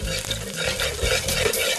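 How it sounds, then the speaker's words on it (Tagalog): Garlic sautéing in hot cooking oil, a close, lively crackle and sizzle with stirring scrapes and low clatter of the pan throughout, no talking. "Igisa ang bawang sa mainit na mantika"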